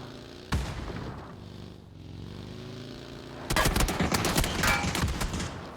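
Gunfire from a competitive video game league match, game four: a sharp volley near the start, then a dense, loud run of rapid overlapping shots and bursts through the second half.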